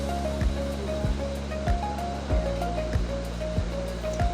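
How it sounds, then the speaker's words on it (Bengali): Spice paste with tomato sauce and salt being fried and stirred for a chicken roast: a steady sizzle with regular scraping knocks from a spoon, close by and without talk. "দিয়ে দিচ্ছি টমেটো সস পরিমাণ মতো, স্বাদ মতো লবণ দিয়ে এখন মশলাগুলো কষিয়ে নিচ্ছি"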